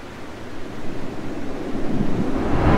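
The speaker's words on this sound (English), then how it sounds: "Hey, Mercedes, activate ocean sound." A Mercedes-Benz EQE SUV's ocean sound ambience program plays a steady broadband rush of waves and surf, gently swelling and growing louder toward the end, continuous with no voices.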